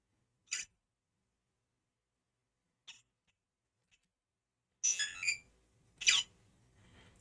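Sparse electronic beeps and chirps of Epic Pinball game effects played through a PC speaker on a Pocket386 running FreeDOS: a few short isolated tones, then a louder cluster of buzzy warbling blips near the end, with no talking.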